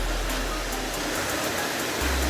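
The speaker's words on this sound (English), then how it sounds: "Guys, watch this waterfall." A waterfall in the Bavarian Forest, heard as a steady rushing wash of falling water with faint rhythmic ticks over it, close and moderately loud throughout, without talk.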